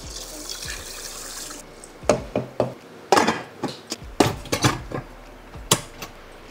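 Two cups of water pour over glutinous rice in a kitchen pot, heard as a run of close, uneven splashes and sloshes after a softer opening stretch of running-water hiss.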